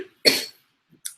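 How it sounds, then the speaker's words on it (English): A single sharp cough, close and fairly loud, followed after a pause by a faint short second burst, with silence around it. "There goes the cough."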